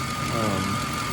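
A Ford 5.4L 3V Triton V8 idles steadily after a timing chain replacement, a smooth, even mid-range hum with faint mechanical ticking, heard close and continuous under a broad noisy background.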